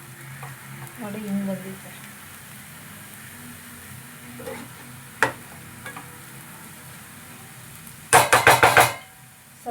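Spinach palak curry is stirred and frying in a pan, with a soft sizzle beneath a brief spoken remark and a short burst of scraping and knocking near the end.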